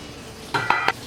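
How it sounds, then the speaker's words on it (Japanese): Hot pot cooking with a broth of kombu and shijimi clams, with soft background hiss and a few close clinks of a utensil against the pot. No one speaks. "今から鍋を作っていきます"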